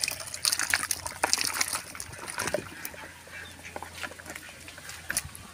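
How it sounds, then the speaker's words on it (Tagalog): Liquid is poured into a pot of jackfruit cooked with annatto, making a close, splashy gushing sound that runs a few seconds and then eases. Faint kitchen noise sits underneath. "Okay, bubuhos na po natin yan."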